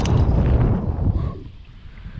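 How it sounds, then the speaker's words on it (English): Strong wind buffets the microphone on a new fishing boat out on the water, a loud rushing roar that eases off toward the end. "This wind is fierce."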